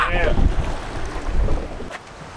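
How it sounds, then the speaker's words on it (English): Strong wind sweeps across the open water of West Point Lake while bass fishing from a boat, a short loud rumbling buffet with low thumps and hiss, with a brief splash-like burst near the start. "It's very windy out there."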